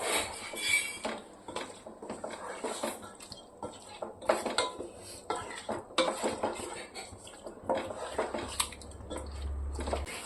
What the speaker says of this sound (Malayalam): തൈരും കൂടെ ആഡ് ചെയ്ത് കൊടുക്കാം. നല്ലതുപോലെ മിക്സ് ചെയ്ത് യോജിപ്പിക്കാം.